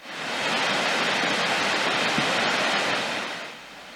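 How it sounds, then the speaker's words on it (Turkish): Muradiye Waterfall in Van, thawing after freezing in cold weather, pours in a steady, loud, broadband roar of rushing water that holds constant, then eases slightly at the end. "donan Muradiye Şelalesi son günlerde havanın ısınmasıyla birlikte çözülmeye başladı"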